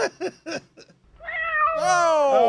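A stuffed toy cat lets out a close, drawn-out electronic meow with a rising and falling pitch, after a few short spoken words and a brief pause.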